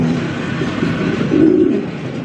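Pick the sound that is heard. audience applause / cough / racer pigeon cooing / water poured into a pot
racer pigeon cooing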